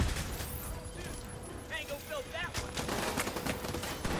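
Gunfire in The Division 2 rattles out in scattered bursts and steady volleys behind an anxious player's voice, with chirpy electronic tones cutting through the mid-range of the mix.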